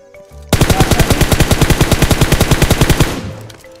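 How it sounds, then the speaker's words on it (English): A loud burst of automatic gunfire in PUBG Mobile, about two dozen rapid evenly spaced shots over two and a half seconds, then a brief ringing tail, with no talking. "Wah, ditembakin lagi."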